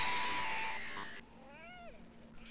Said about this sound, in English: We'll do the cat next.